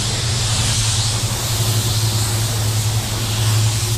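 An airbrush running at 27 PSI sprays a light coat of paint, giving a steady, continuous hiss that holds at an even level without pauses.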